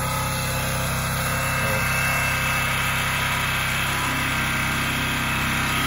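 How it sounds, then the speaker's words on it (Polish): A generator drones loudly and steadily at a site where concrete is being chiselled with a demolition hammer while a chicken coop is demolished; the constant engine hum dominates, with no separate hammer blows standing out. "mam agregat włączony i tym młotem tutaj kuję od rana dzisiaj"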